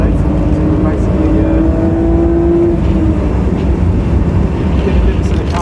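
A car driven hard on the track at Donington Park, its engine a loud sustained roar with a climbing pitch that then settles, heard from the cabin under continuous road and wind noise while someone talks.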